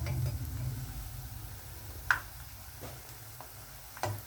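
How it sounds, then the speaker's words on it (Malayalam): Bajji, or pakora, fry in oil over a medium flame with a faint, steady bubbling hiss, broken by a few sharp clicks and taps. "ഇതൊരു മീഡിയം ഫ്ലെയിമിൽ ഫ്രൈ ചെയ്തെടുക്കാം"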